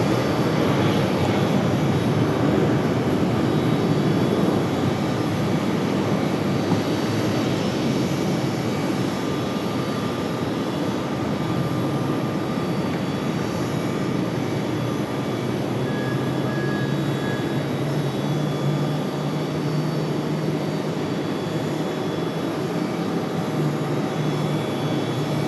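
An Alaska Airlines jet departs Raleigh-Durham International for San Diego, its engines producing a steady, broad roar that holds at a strong level throughout with faint tonal whine above.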